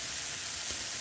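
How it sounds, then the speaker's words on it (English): Wild Amanita villosa mushrooms dry frying in a pan with no butter or oil, giving a steady, soft hiss of sizzle that holds evenly throughout. "It's just a dry fry."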